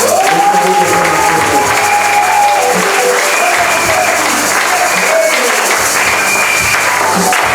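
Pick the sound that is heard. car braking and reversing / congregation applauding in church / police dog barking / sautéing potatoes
congregation applauding in church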